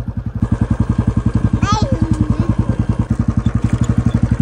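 A motorcycle engine on a rural farm runs close by at a steady idle, with even, regular thumping pulses throughout and a brief high whistle-like sound partway through.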